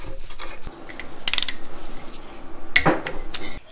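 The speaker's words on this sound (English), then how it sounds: "I'm going to take them down with the speed wrench" Speed wrench spinning down bolts on a Corvair 102hp engine during reassembly, a close series of quick metallic ratcheting and clicking bursts with brief pauses between them.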